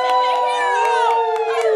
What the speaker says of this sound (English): I want you to cheer with great big hoops and hollers